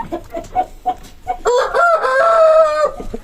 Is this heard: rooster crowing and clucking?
yes